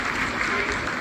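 Applause breaks out in ISRO mission control during the Chandrayaan lander's vertical descent toward the lunar south pole, a dense steady clapping at an even level over a brief moment.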